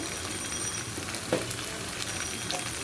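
Ground spices such as turmeric, coriander and cumin frying in a pan, a steady soft sizzle with faint stirring scrapes, close and continuous.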